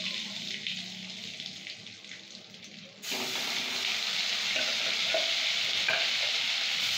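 Spice paste for prawn curry tipped into a hot kadai and stirred, bringing a sudden loud sizzle that jumps up partway through and holds as a steady, close frying hiss with scraping.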